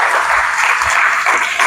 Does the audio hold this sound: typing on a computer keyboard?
no